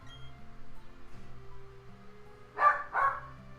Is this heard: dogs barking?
yes